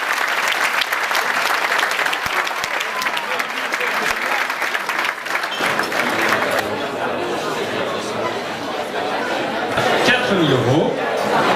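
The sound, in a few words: audience applause for Yvonne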